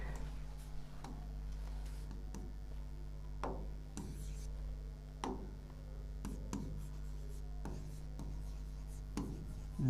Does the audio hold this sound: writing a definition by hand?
yes